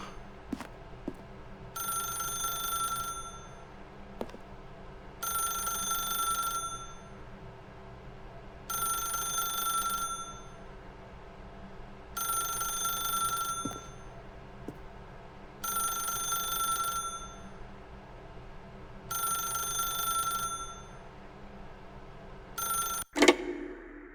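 In the video game The Stanley Parable, a telephone rings in seven evenly spaced double bursts over a low ambient hum, ending with a sharp click as the receiver is lifted.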